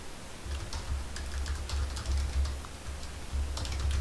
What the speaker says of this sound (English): Just type in Korean